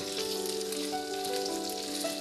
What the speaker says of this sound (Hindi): ये मैं ऐड करूँगी और चिकन के साथ इसको मैं फ्राई कर लूँगी।